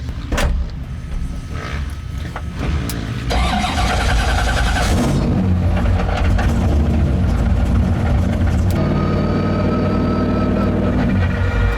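An 1100-horsepower C6 Corvette engine cranks and fires up, then settles into a loud, steady rumbling idle with occasional revs, close by.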